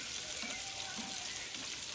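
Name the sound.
shrimp cooking in a pan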